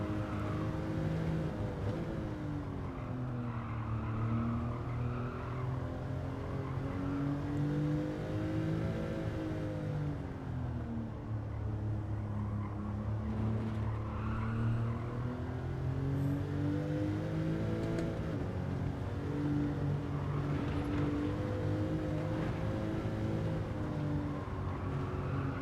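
A race car engine in a racing game on the Nürburgring climbs and falls as throttle opens, lifts to coast, then opens again, a steady droning whine with rising and sagging pitch, close and continuous with no talk.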